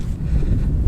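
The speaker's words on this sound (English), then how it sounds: "sorry about the wind. It's quite windy." Wind buffeting a microphone outdoors in a country park, a steady low rumbling roar that fills the whole clip with no let-up.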